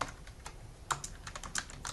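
Rapid typing on a computer keyboard: quiet, uneven clusters of key clicks close to the mic, with no voices.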